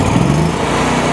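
A Kohler 25 hp electronic fuel injected engine runs on a Trailblazer 325 welder generator, a loud, steady close-up drone with no talking.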